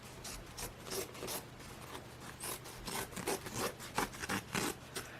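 Scissors snipping away excess upholstery fabric at the sewn corners of a custom RV jackknife sofa cover, a run of quick, close rasping cuts in an irregular rhythm, with no voices.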